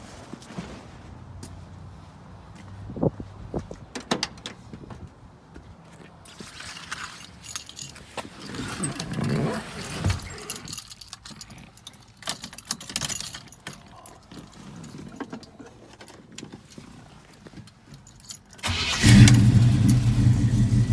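A 1972 Chevelle Malibu with a 350 engine cranks and fires near the end, after a stretch of quiet shuffling and key jangling, settling into a loud, steady running rumble close by.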